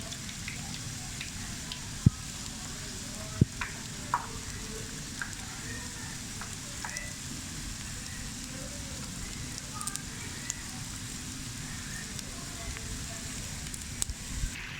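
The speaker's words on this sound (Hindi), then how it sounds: "और इसको हम फ्राई कर रहे हैं।" Chicken samosas frying in hot oil give a steady, low crackling sizzle, continuous and moderately quiet, with a few sharp pops and clicks scattered throughout.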